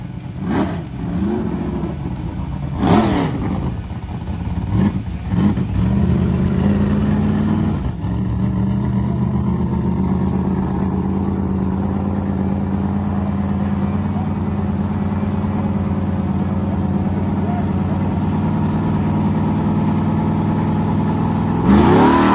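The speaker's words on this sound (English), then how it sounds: "I'll pull back around and make a test pass trying to get it dialed in for the bracket races." A bracket drag race car revs and then pulls away on a test pass at the No Name Nationals. Its engine rises through a few sharp blips into a loud, sustained acceleration roar close by.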